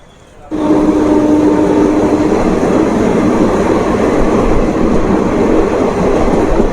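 Howrah Kaviguru Express passenger train running on rails, a loud steady rumble and clatter that starts abruptly after a brief quiet moment and continues evenly throughout.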